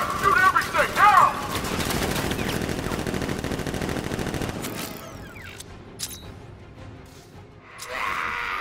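Militia gunfire rattles in a dense, sustained fusillade in Batman: Arkham Knight for about five seconds, then drops to a quieter stretch of scattered sounds and ambience before a brief swell at the end.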